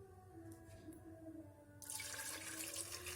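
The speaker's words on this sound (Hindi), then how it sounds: "अब मैं इसके अंदर तकरीबन 1 कप पानी ऐड करूँगी" About a cup of water pours into chana daal in a cooking pot, starting abruptly partway through as a steady close splashing stream over a quiet kitchen hum.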